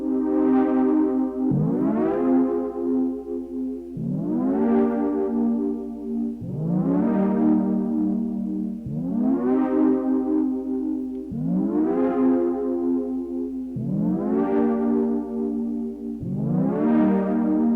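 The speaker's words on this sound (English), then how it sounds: "We're going to do that on Melbourne Instruments Nina, and it sounds like this." A silky pad chord on a Melbourne Instruments Nina synthesizer swells and fades in a slow repeating cycle, seven soft rising-and-decaying chords, warm and lush, alone without talk.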